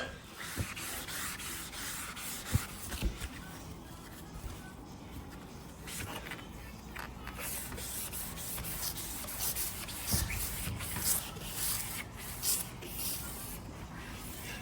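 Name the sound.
hand sanding narrowboat roof before painting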